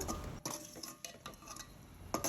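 A spoon stirs devilled prawn mixture in a pan on the stove, giving soft scraping and scattered light clinks and taps that come irregularly at a low level.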